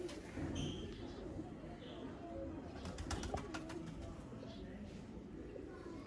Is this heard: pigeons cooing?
yes